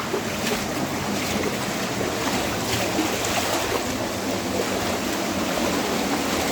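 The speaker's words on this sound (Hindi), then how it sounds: "ये है वो एक बड़ा वाला झरना।" A steady, broad roar of rushing water from a large waterfall at Robbers Cave (Guchhupani), Dehradun, fills the scene without a break, dense and constant and nearby.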